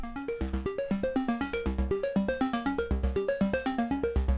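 Classic synthesizer sequence from a software synth plugin: a steady, rapid arpeggiated pattern of plucky notes with a deep bass pulse, looping evenly and clearly throughout.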